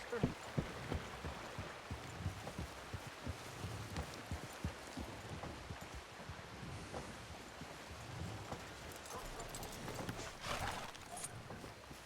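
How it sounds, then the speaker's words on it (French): Horse hooves clip-clop steadily in a Western scene. The hoofbeats sound faint and distant under rain and wind noise. "Je vous ai ramené votre cheval, Dame Rosa."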